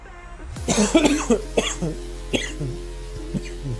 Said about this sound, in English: the cough that I had earlier looks like it hasn't gone away completely